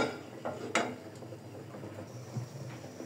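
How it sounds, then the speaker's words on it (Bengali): A pan is set down on a stove in a village kitchen, with a couple of sharp metallic clanks and light scraping over quiet background noise. "মরিচগুলো ভেজে নেওয়ার জন্য আমি এখন চুলায় একটি প্যান বসিয়ে দিব।"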